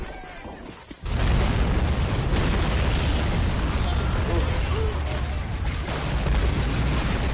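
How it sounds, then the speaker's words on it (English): Heavy artillery barrage from Russian guns shelling a city in Men of War: Assault Squad 2, a dense, continuous roar of booms and blasts that erupts after a brief quieter moment and keeps rumbling loudly throughout. "the Russian artillery barrage has just began, as they just unload all these massive guns, shelling the living crap out of the city in front of them"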